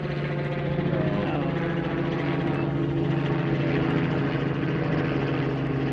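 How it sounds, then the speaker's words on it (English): A police helicopter passes overhead along a busy flight path, its steady rotor and engine drone loud and continuous throughout, with no break or fade. "Is that a police helicopter?"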